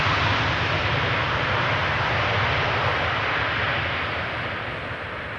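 Airliner landing at Amsterdam Schiphol with thrust reversers deployed, a dense, steady rumbling roar at a distance that holds level and then slowly fades.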